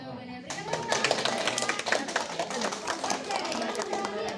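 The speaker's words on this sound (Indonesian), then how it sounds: "Berikan tepuk tangan." Classroom clapping as students applaud a classmate's correct answer during a lesson on globalisation, a dense patter of hands from a group nearby, steady for several seconds with some talk underneath.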